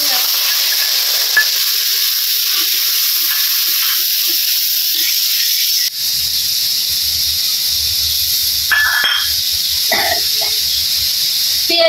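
Cumin and spices with turmeric, salt and chili frying in a pan, a steady loud sizzle and hiss throughout with a few faint clinks and stirring noises.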